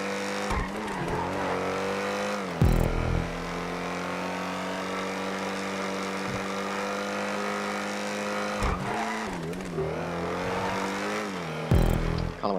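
A Principe Deveste Eight supercar in Grand Theft Auto 5 holds a steady high engine drone, with tyres squealing and skidding through drifts and a few abrupt shifts in pitch.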